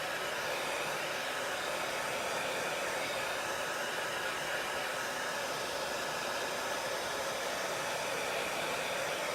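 A hair dryer blows with a steady, even whoosh at close range, drying a chalk paste transfer, running unbroken and alone for the whole stretch.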